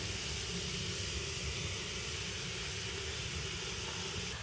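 Byadgi chili hitting hot tempering oil after the garlic has browned gives a continuous, even sizzling hiss, fairly quiet and close, with no speech over it.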